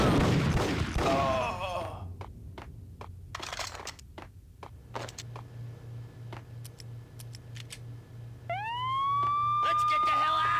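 Police sirens from the video game Max Payne wail up loudly in the final two seconds, after a voice at the start and a string of sharp, scattered impacts over a low steady hum.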